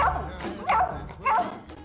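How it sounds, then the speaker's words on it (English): An 8-year-old Bichon Frise barking in kennels, about three short, sharp yappy barks spaced across the moment, close by, with a faint background murmur. "is 8-year-old Bichon Frise, Pooch."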